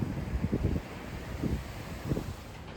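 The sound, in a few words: wind blowing outdoors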